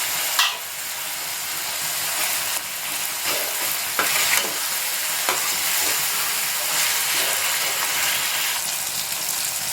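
Green chillies and garlic frying in a hot pan, a steady loud sizzle with occasional stirring scrapes, running continuously without voices.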